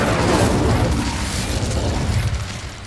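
A fiery Incendio spell blast in Hogwarts Legacy, a broad roaring whoosh with booming low rumble that stays loud and dense for the whole stretch, no voices heard.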